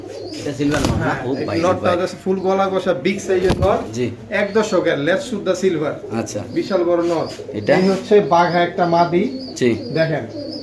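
Pigeons in cages at a pigeon sale coo repeatedly and close by, in overlapping throaty phrases with brief pauses, and a few sharp knocks cut in among the calls.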